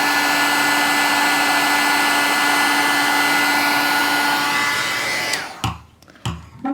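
An embossing heat tool melts powder on a handmade Mother's Day card, blowing with a loud, steady hairdryer-like roar that winds down and cuts off near the end, followed by a couple of soft knocks.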